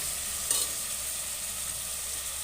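Onions frying in oil in a pan for vegetable pulao give a steady, even sizzle with one brief utensil clink near the start, close by and without talk.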